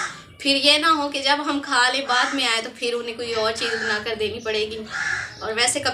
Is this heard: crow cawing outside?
yes